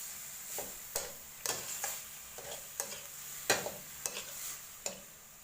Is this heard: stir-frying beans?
yes